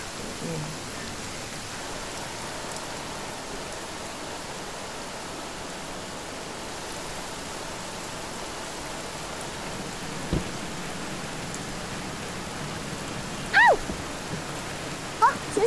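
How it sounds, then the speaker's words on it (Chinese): Heavy rain pours in a steady, dense hiss that holds evenly at moderate level the whole time, with a couple of brief faint sounds near the end. "这么大雨啊"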